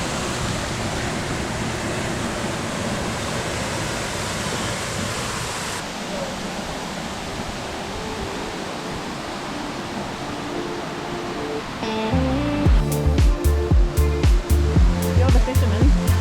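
A waterfall on a Grampians creek gives a steady, dense rushing roar that fills the whole clip, with a sharper splashing and knocking sound near the end.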